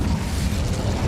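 Incendio fire spell cast in Hogwarts Legacy on PC, a loud, dense burst of fiery blasting and rumbling that fills the whole moment without a break.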